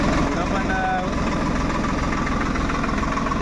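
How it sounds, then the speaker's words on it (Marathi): A Swaraj 742 tractor idles with a low, even, rapidly pulsing diesel chug and faint mechanical rattle, steady throughout while a person talks over it. "रील शूट करायला ट्रॅक्टर चालू केला आहे."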